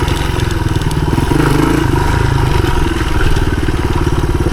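A 1983 Honda XR200R dirt bike being ridden on an enduro loop, its single-cylinder engine loud and close with a steady rattling drone and slight shifts in revs throughout.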